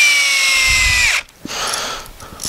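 A power drill whines steadily at high speed while driving a screw into a wooden live edge picnic table, then cuts off abruptly, leaving quiet handling noises.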